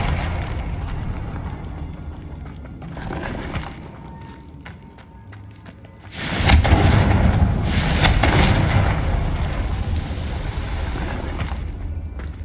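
Fiery spell blasts in the Hogwarts Legacy video game, a loud sudden explosive burst that rumbles on with crackling debris after a quieter stretch of ambient game sound.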